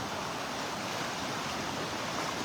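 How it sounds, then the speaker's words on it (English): Rough ocean surf at a North Naples, Florida beach on a muggy day after heavy rain, a continuous broad wash of breaking waves with some wind rumble, steady and fairly soft, no voices. "Was not expecting this rough surf."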